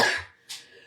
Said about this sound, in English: thought I was going to finish without coughing